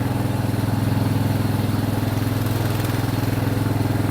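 A riding lawn mower engine runs at a steady, loud, close drone with an even throbbing pulse and no pauses.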